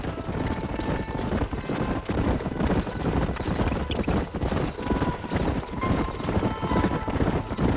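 Horses ride in a Western-themed video game, with rapid, steady clip-clopping hooves throughout, close and fairly loud, over a low rumbling background and occasional faint tonal game sounds.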